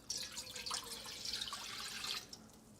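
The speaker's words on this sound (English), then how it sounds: "I'm going to fill you with some water." Water poured to fill a container in a video game, a faint continuous splashing trickle lasting a couple of seconds before stopping, quiet and alone.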